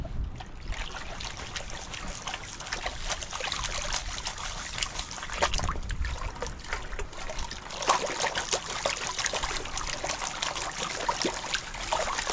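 A river flows over boulders at a gold-panning spot, making a steady, close rush of trickling, splashing water that fills the whole stretch with no voices.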